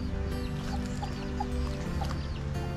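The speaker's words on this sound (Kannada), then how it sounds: "ಚೆನ್ನಾಗಿದೆ ಅಲ್ಲ ಕೋಳಿ ಕೋಳಿ ಮರಿ" Hens and chicks clucking at a rural ragi threshing yard decorated for the Ugadi festival, with steady soft clucks and chirps over a busy, continuous background murmur.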